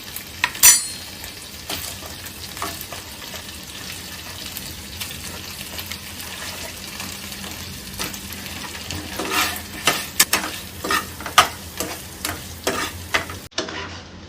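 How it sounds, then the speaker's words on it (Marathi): Butter garlic crab lollipops frying in a pan, with a steady sizzle and repeated stirring clinks and scrapes throughout, close and moderately loud, ending abruptly. "ready to fry me crabs lollipop ह्यामध्ये टाकत आहे"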